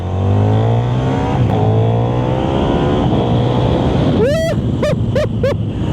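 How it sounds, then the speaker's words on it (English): KTM Superduke 1390R Evo in rain mode pulls hard at wide open throttle through first, second and third gears, the loud engine note rising and dropping with each shift, followed by a few sharp bursts near the end. "that's wide open throttle, first, second and third in rain mode"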